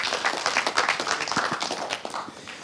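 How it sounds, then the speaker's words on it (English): Audience applause for a chief guest, a dense patter of clapping hands close by with individual claps distinct, continuing for a few seconds without speech. "A very big round of applause to the chief guest for the first."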